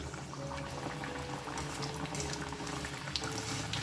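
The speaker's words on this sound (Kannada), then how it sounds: "ಇದನ್ನು ನಿಧಾನಕ್ಕೆ ಮೀಡಿಯಮ್ ಫ್ಲೇಮಲ್ಲಿ ಕರ್ಕೋಬೇಕು" Fritters of roasted gram and fenugreek leaves fry in hot oil over a medium flame, giving a steady close bubbling and crackling sizzle.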